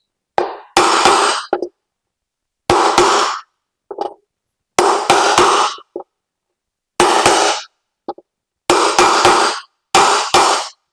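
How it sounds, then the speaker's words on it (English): Repeated loud metallic hammer strikes ring out in short bursts of two or three blows, separated by pauses, close and sharp, as a bearing is hammered out of an electric unicycle wheel using the rim as a spacer. "going to try to hammer it out as best I can using the rim as a spacer"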